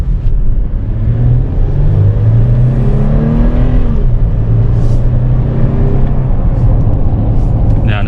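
A 2021 Toyota 4Runner TRD Off-Road cruises on pavement, its engine humming steadily with tire and road roar, rising slightly under acceleration, heard from inside the cabin.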